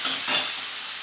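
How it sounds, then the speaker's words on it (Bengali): Onions fry in a pan at close range, a brief, steady sizzling hiss with a slight swell as they are stirred. "আর এই যে পেঁয়াজটা ভাজা হচ্ছে"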